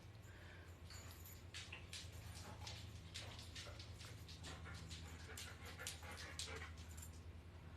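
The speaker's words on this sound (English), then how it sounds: "The dog's getting excited." A dog whimpers excitedly indoors, giving faint, high whines and soft yips over a low steady hum, fairly quiet throughout.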